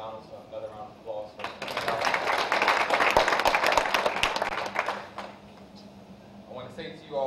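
Audience applause for a McDonald's guest on a panel, a burst of clapping that swells in the middle for a few seconds and fades, with some talk before and after.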